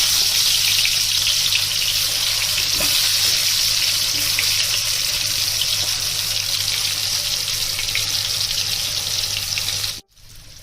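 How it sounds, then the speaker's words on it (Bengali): Potatoes rubbed with salt and turmeric fry in hot oil in a wok, giving a loud, steady close sizzle that holds for about ten seconds before cutting off abruptly, no talking. "প্রথমে আলুগুলোকে ভেজে নিচ্ছি"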